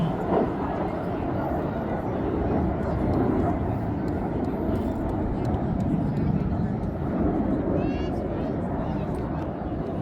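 RAF Red Arrows Hawk display jets pull up and climb at the Midlands Air Festival, a steady loud jet roar that swells and fades slightly across the pass, with a public-address commentator talking over it.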